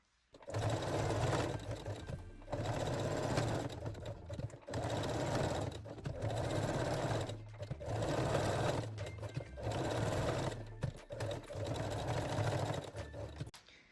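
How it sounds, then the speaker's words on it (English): A sewing machine backstitches seams with a straight stitch in repeated runs of loud whirring, each a second or two long, separated by short quiet gaps. "take out your basting stitches and then lock or backstitch all seams with straight stitch"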